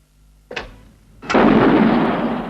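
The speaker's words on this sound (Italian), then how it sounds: "Se un cannone spara un proiettile," A single cannon fires a shell with a sharp report, and after a short pause a heavy, sustained roaring boom follows and rumbles on loudly without fading; no voices.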